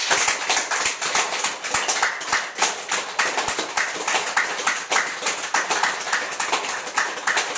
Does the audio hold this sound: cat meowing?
no